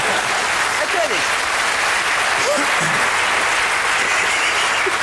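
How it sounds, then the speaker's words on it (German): Studio audience applause on a German TV comedy panel show, a thick continuous wash of clapping with faint voices and laughter mixed underneath. "Klatschen Sie ruhig, klatschen Sie ruhig."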